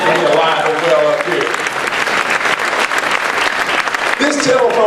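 Audience applause at a live session, a dense, loud wash of clapping running steadily through, with a voice speaking over it at the start and again near the end.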